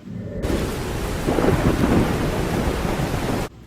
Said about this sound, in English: The rain was falling heavily.